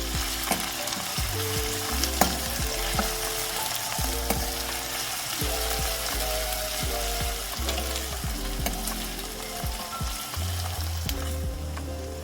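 Green chillies and ginger-garlic paste sautéing in a pan give a loud, continuous sizzle with frequent stirring clatter and scrapes close by, and no voices.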